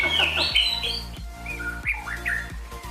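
A songbird chirps in quick, bright, varied calls close by, over a steady low mechanical hum and some rhythmic thumps.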